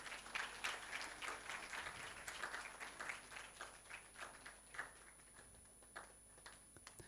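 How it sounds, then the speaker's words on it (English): A seated audience claps at a graduation ceremony, a steady wash of many hands heard faintly and at a distance, continuing evenly without voices on top. "Ladies and gentlemen, a big round of applause."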